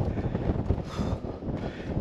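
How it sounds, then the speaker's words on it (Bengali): Strong, cold wind gusts across a tall tower in cloudy, rainy Sri Lanka, a constant close buffeting roar on the microphone that swells and eases over two seconds. "প্রচুর বাতাস আর ঠান্ডা।"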